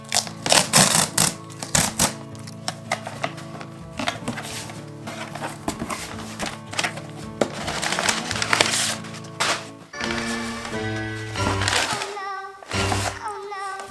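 Unpacking a preloved Louis Vuitton Escale Collection item: close, busy crinkling and rustling of packaging and paper, with sharp taps and tearing bursts that come in uneven clusters and briefly pause near the end, no talking.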